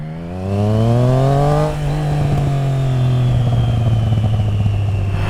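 A Triumph Trident 660 motorcycle fitted with a Zard full exhaust revs loud and close, its engine note climbing sharply, dipping, then settling into a steady, throaty high-rpm drone.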